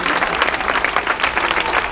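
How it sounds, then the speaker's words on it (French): Loud, dense applause from an audience cheering decathletes at a Nike sports event in Paris, steady clapping throughout with some crowd noise mixed in. "je vais demander de les applaudir très très fort"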